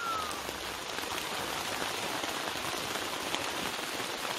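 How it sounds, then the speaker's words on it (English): Steady rain pours onto a Napier Sports camo truck tent on a 57 series truck, a dense, even hiss of drops drumming on fabric throughout, close and continuous with no voices. "It's still raining."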